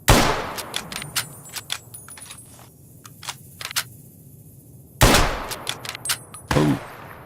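Gunfire crackles in the video game Fallout: New Vegas, with loud bursts of shots at the start and again near the end, separated by scattered lighter pops and clicks.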